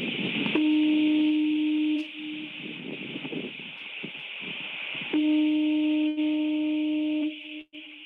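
A low, steady foghorn tone sounds in two long blasts, each lasting about two seconds, over a continuous hiss and faint background noise.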